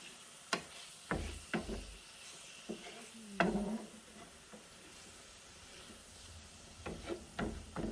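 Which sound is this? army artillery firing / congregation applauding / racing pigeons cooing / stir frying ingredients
stir frying ingredients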